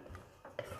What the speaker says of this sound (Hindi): और अब मैं इनको अच्छे से मिला दूँगी